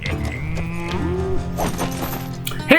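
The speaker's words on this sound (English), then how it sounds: "He made it sound like a cow." A cow lets out a long, loud, low moo with a clear tonal drawl, a sound effect from the video game Sly 4: Thieves in Time, heard alone and up close.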